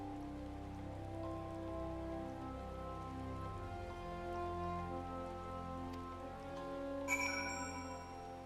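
Steady rain falling on surfaces in Final Fantasy XIV, a continuous patter under a soft musical drone, with a bright chime near the end and no talking.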